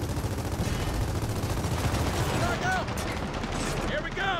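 Dense continuous gunfire in the co-op video game Gears of War 4, a loud steady stream of shots with no gaps, while voices talk underneath.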